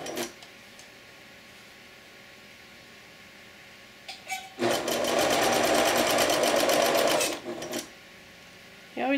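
A sewing machine stitches a bib apron in one loud, continuous whirring run of a few seconds, framed by quieter clicks and handling before and after.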